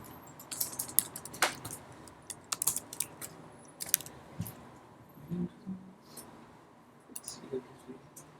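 Quiet clicking keystrokes on a computer keyboard during an office software session, scattered irregular taps and short bursts, close and soft, with faint low voice or background murmur.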